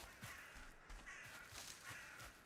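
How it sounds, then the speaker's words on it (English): Crow cawing outdoors, a few harsh calls spaced across a couple of seconds, moderately near over steady background noise. "Wait, I hear a crow."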